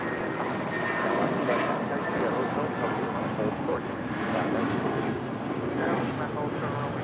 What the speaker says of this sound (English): This 14-year-old A320 with JetBlue Airways flight 1180